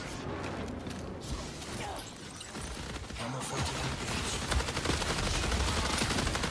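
Gunfire in the Marvel Rivals video game, including a one-shot sniper, sounding as continuous dense mechanical shooting and clatter across the whole stretch, loud and busy with no clear pauses.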